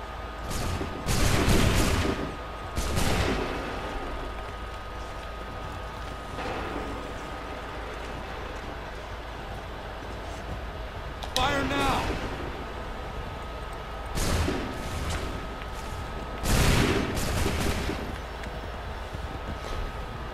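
Musket volleys from Redcoat lines in Assassin's Creed 3 crack out as several loud, sharp bursts spread irregularly over a rumbling battlefield background.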